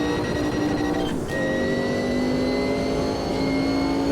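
Sauber C9 race car in a racing video game at Spa 1993, its turbocharged engine droning loud and steady at high revs with a whistling turbo tone, briefly dipping just past the one-second mark before resuming.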